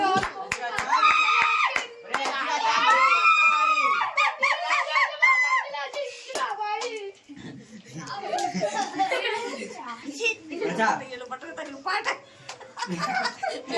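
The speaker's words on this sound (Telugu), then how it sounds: "చప్పట్లు కొట్టండి రా." Hands clap at a birthday cake cutting, sharp separate claps scattered among lively voices, laughter and squeaky sounds, close and busy, with people talking throughout.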